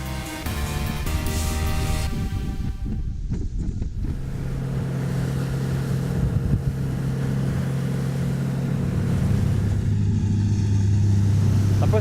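Ranieri Next 290 SH motorboat running at speed with its hull planing, a steady close engine drone with rumbling low harmonics and wind buffeting across the microphone throughout.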